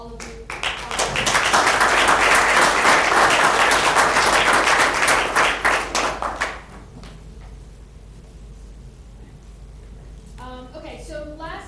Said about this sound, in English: So another round of applause to all of you.